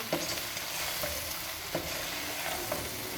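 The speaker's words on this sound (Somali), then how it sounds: "wili waa shiileena sida u jeedaan" Food fries with a steady sizzle in a pan for a pasta and camel meat dish, with a few soft scrapes and knocks as it is stirred, close up and without talk.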